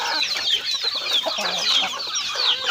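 Chickens cluck on a small mixed Thai farm where cows are also kept, a steady overlapping chorus of hens close by with busy bird chatter above, no speech.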